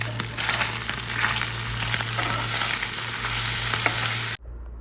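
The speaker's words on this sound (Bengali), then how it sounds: "তেল গরম হলে মাছগুলো এপিট ওপিট ভালো করে ভেজে নেব" Baim eel fish frying in hot oil in a wok, a loud, steady close-up sizzle with crackling spatter that runs on without break and then cuts off abruptly.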